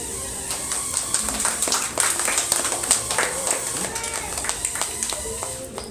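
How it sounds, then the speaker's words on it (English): Guests clap at a child's birthday magic show in San Antonio, with scattered, uneven hand claps from a small group mixed with voices and room chatter throughout. "Clapping."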